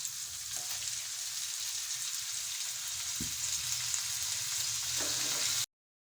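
Chopped potatoes fry steadily in a pan, giving a constant close hissing sizzle with a couple of soft taps, ending abruptly in silence.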